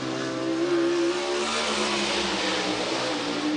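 A World of Outlaws sprint car engine roars steadily through a qualifying lap at River Cities Speedway, loud and close, its high-revving drone holding constant with slight pitch shifts throughout.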